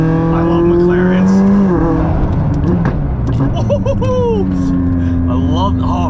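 A McLaren car engine drones loudly with rising and falling turbo whistles and whooshes, while a person talks over it.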